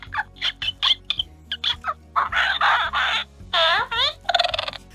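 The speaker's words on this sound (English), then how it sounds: "So when you press the paw here, he chatters." A Raya and the Last Dragon toy figure, its paw pressed, gives off rapid electronic chattering and warbling chirps, bird-like and close, in quick bursts with a low hum underneath.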